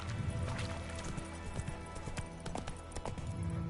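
Roach the horse galloping in The Witcher 3 video game, a steady busy patter of hooves under game ambience and music, close and continuous throughout.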